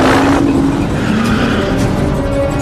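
A car skids during a getaway chase with a loud squeal of tires and a roaring engine, close and continuous throughout.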